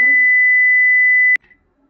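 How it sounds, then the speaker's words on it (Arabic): A steady electronic alarm beep from a beginner's Python alarm clock program, one sustained clear tone lasting over a second and cutting off sharply, with a brief moment of speech at the start. "اشتغل المنبه وتأكدنا أنه البرنامج أموره تمام"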